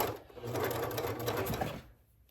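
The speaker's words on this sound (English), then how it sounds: "Lower your presser foot and just slowly start doing those stitches." Sewing machine stitching leggings fabric with the presser foot lowered, a close, steady whirring run of stitches lasting about two seconds before it tapers off and stops.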